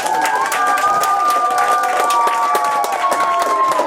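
Loud, steady clapping from a crowd at a children's sports award ceremony at a summer camp, with shouting voices mixed into the applause.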